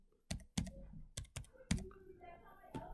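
Keystrokes tapped on a computer keyboard while entering a two-factor authentication code for Facebook, a handful of separate clicks with short pauses, close and fairly quiet.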